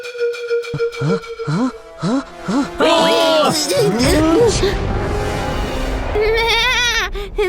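A cartoon goat bleats in a series of wavering, tremulous cries, loud and close, interleaved with animated character voices and background music.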